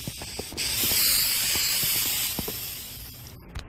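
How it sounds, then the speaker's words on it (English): A can of bug spray hisses in a steady, close burst lasting a few seconds, with soft clicks and thuds before it starts and after it stops. "Did you spray every crack?"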